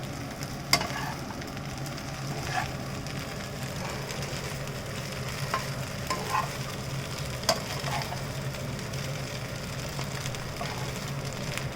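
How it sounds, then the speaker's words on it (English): Brown bread upma is lightly stirred in a pan over the flame, producing a continuous soft sizzle with a few sharp spoon taps and scrapes scattered throughout, no voices. "Just give it one quick stir"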